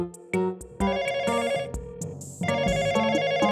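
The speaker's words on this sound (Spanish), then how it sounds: "Nadie contesta el teléfono." A cartoon telephone rings in bright repeated electronic bursts, each ring cutting off and starting again, loud and close over a playful musical backing.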